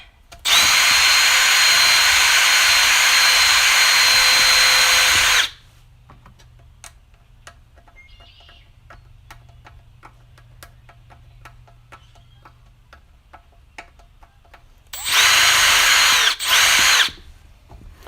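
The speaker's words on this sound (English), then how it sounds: "I need to get a hold on the drill. I need 2 hands on the drill" A power drill run on a Tecumseh engine during sump gasket work, a loud sustained whine of about five seconds, then a quiet stretch of faint ticking and handling noise before two more short, loud bursts of drilling.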